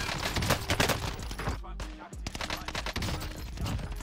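An F2000 (BP50) assault rifle fires in the video game Warzone, with loud rapid bursts of automatic fire that pause briefly before resuming, mixed with game effects.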